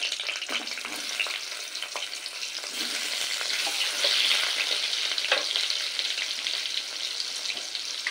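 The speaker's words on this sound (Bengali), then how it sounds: "এবার এই তেলেই ভেজে নেব কেটে রাখা আলু" Cut potatoes fry in oil left in the pan after frying pointed gourd, a steady close sizzle with occasional stirring scrapes and no voices.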